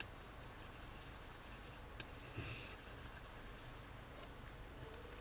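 Someone erases writing on a board with faint, scratchy rubbing strokes and a few small knocks, quiet and close with no talking.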